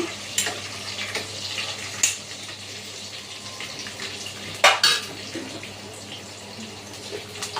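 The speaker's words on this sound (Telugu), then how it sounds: "మొత్తం అయితే మంచిగా ఫ్రై చేసుకోవాలి" Green banana curry frying with cumin in a pan, steady sizzling punctuated by loud metal clanks and scrapes of a utensil against the pan.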